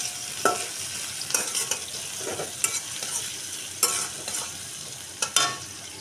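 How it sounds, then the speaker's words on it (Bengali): Chopped onion frying in hot mustard oil in a wok, a steady close sizzle broken by repeated scraping stirs at irregular intervals, with no talking. "এ পর্যায়ে আমি দিয়ে দিব পেঁয়াজ কুচি"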